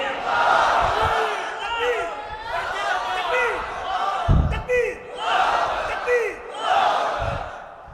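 A large crowd at an Islamic religious gathering in Bangladesh shouts the takbir response in unison, several loud collective bursts of voices rising and falling close by.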